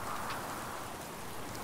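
Rain in the video game Last Day of June, a soft, even, continuous hiss of falling rain at low level, with no voices over it.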